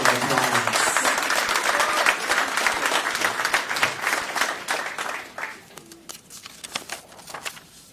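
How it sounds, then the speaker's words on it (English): An audience at a DeKalb County public safety awards ceremony gives a big round of applause for honoured officers. Dense clapping fills the first five seconds, then thins into scattered, fading claps. "Let's give them a big round of applause."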